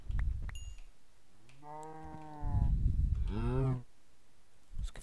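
Two long, close cow moos from the Minecraft video game, a low drawn-out call followed by a shorter, higher one, loud and clear with little else around them.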